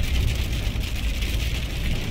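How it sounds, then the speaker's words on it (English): Steady rain drums on the roof of a camper van near Yellowstone, a dense, even hiss with a low rumble, close and constant throughout. "I'm glad it's raining."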